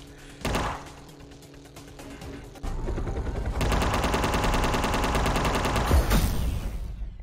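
Rapid, sustained machine gun fire in dense bursts in the video game UnMetal, loud and mechanical, after a single heavy thud near the start.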